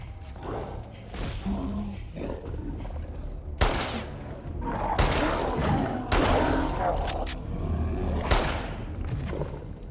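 Gunfire in the video game The Last of Us 2, heavy blasts and booming thuds mixed with game roars and rumble, several loud bursts spread across a dense, noisy battle scene.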